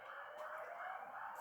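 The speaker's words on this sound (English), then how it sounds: "Excuse that siren." A fire engine or police car siren wails faintly in the distance as it passes, a thin, steady, wavering tone.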